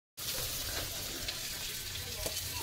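Food sizzles in a pan on a home cooking fire, giving a steady, close hiss from start to end with no clear talk over it.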